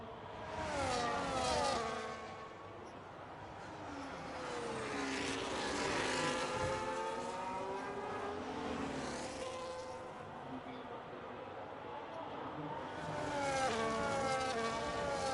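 Formula One cars in a sim racing league game, with Williams and McLaren cars: high-pitched engine whines rising and falling through gear changes, continuous and fairly close, with faint talk underneath.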